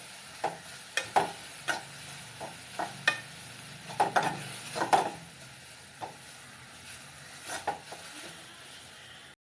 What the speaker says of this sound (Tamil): மிளகுத்தூள் கொஞ்சோண்டு, மஞ்சத்தூள் கொஞ்சோண்டு, வெந்தயம் ஜீரகம் பிடிச்சது கொஞ்சோண்டு போட்டு வதக்கணும்.